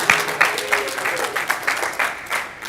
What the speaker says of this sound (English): Give him some applause.